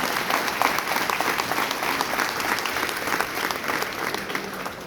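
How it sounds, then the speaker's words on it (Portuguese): Audience applause at a church family event celebrating 30 years, steady dense clapping from a crowd throughout, fairly loud and continuous. "Uma salva de palmas dos pais"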